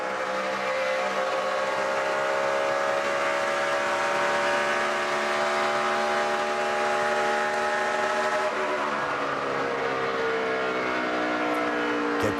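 In-car sound from Jeff Gordon's NASCAR Sprint Cup car racing in the 2011 Hollywood Casino 400, a loud, continuous, harmonic engine howl rising and falling in pitch through gear changes, close and alone.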